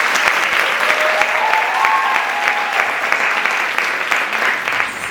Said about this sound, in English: who deserve a round of applause